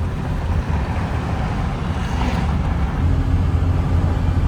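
A 2008 Chevy Express van with a failed alternator drives along, its low engine and road rumble steady and close throughout, with no voices.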